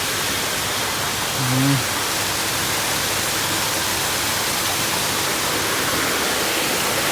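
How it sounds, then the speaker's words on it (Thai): A constant rushing roar of a waterfall at Wat Hub Krathing, Ratchaburi, Thailand, fills the scene, steady and broadband, with a brief low tonal sound early on. "นี่เป็นน้ำตก นะ สวย"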